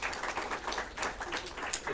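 Applause from an audience at a National Reconciliation Week event welcoming Jesse Green, a steady wash of fairly quiet clapping that continues for the whole short stretch.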